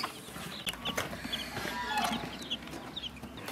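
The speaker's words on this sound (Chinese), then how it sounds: "在孵化器里面孵的小鸡，这两天都出来了。" Newly hatched chicks from farm-egg incubation in rural northern Shaanxi peep in short, high chirps scattered through the clip, close and fairly clear over a steady low background hum.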